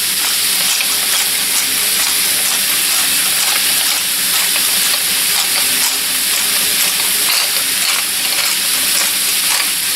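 Meat browning in a pan with salt and pepper, giving a loud, steady, close sizzle and hiss of frying that continues without a break and with no talk.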